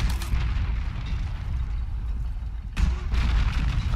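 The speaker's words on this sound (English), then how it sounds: "Grenade launcher." Grenade launcher blasts and explosions in the Deep Rock Galactic game rumble as dense, continuous booms, with a sharp fresh burst near the end of the stretch.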